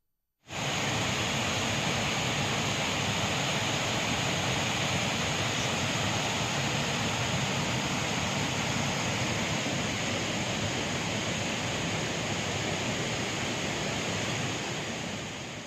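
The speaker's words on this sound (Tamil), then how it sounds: "ஜவ்வாது மலையில் அருவிகள் புத்துயிர் பெற்றன" Waterfalls in the Javvadhu hills run full after summer rain, giving a dense, constant rushing roar. The sound is steady and even throughout, with no voices and no break.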